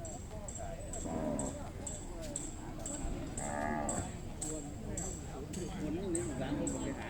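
Cattle moo repeatedly at a night cattle and buffalo market in Yasothon, Thailand, with several drawn-out calls rising over a busy crowd. People talk throughout.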